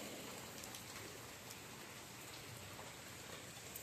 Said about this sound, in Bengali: প্রচুর বৃষ্টি হচ্ছে, এই তো ছাদ পুরো জলে একদম থই থই করছে।